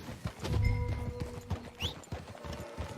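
Horse hooves clip-clop in Red Dead Redemption 2 as a rider travels, a close, rhythmic series of hoof strikes with a brief whinny-like sound in the middle.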